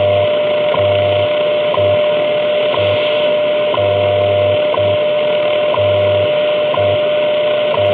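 A Grundig Stereo Concert Boy (Transistor 4000) shortwave radio is being fine-tuned on its shortwave 2 band, giving a steady loud hiss of static with a constant whistling tone and rhythmic ticking pulses.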